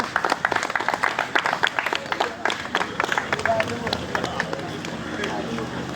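Children and adults at a small award gathering clap in an uneven, sparse round of sharp hand claps, with chatter and voices underneath.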